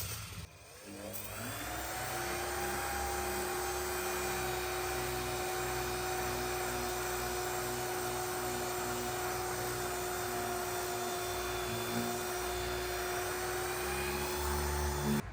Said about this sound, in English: I like the little Delta sander with 320 grit from Festool